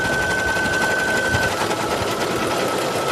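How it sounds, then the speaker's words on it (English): An embroidery machine starts stitching a design, a rapid continuous mechanical chatter, loud and close, running steadily without pause. "I've got the thread loaded, I've got the machine loaded, and we're going to push play"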